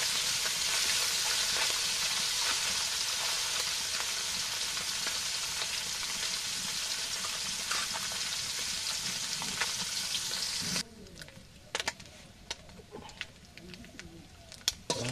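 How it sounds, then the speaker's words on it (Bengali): Small puti fish fry in a pan of oil with a bright, steady sizzle that holds for about ten seconds, then drops away abruptly, leaving scattered faint clatter and birdsong in the background. "আগে পুঁটি মাছ ভাজি যেটা খাবো"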